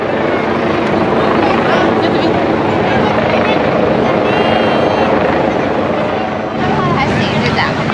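Helicopters fly overhead during a Day of the Dead parade in Mexico City, a loud continuous rotor drone dominating the scene with crowd noise and voices mixed underneath.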